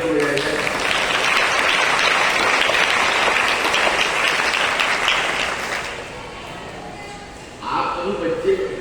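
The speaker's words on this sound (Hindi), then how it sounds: "उनके सम्मान में एक बार जोरदार तालियां बजाई जाए।" An audience applauds loudly, with a dense, sustained clatter of many hands that fades after about six seconds, then a voice speaks over scattered remaining claps.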